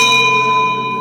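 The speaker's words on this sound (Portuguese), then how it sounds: "Tenho nas minhas mãos a chamada Campainha dos Mártires." A historic handbell, the Campainha dos Mártires, rung once close by, a bright metallic strike leaving clear sustained overtones that ring on evenly for a second.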